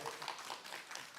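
A lecture audience at a university Bible academy applauds, giving a short burst of quick, close clapping.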